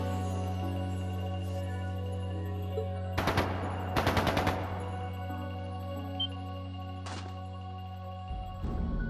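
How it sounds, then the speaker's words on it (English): Two quick bursts of rapid automatic gunfire crackle over a steady droning hum in the video game Trails of Cold Steel II, followed by a lone faint shot. "That sounded like gunfire."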